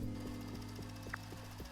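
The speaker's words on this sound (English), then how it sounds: "It's hammering along, it should stop." A robot in Autonauts pounds with a mallet in a steady, evenly spaced series of about six dull knocks over a constant low mechanical hum, quiet and without speech.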